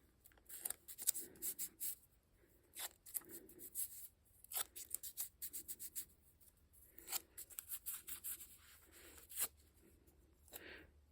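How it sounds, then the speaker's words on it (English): Tape pulled and pressed onto the back of a foam stamp mask, with intermittent close crackly rips and soft rubbing bursts in uneven clusters, quiet with no talk. "I need to put some tape on the back of this mask"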